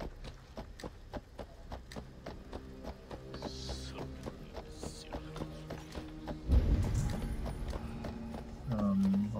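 Horse hooves clip-clopping at a steady rhythm while riding in Assassin's Creed Valhalla, close and clear over game ambience, with a heavier thud partway through and a voice briefly at the end.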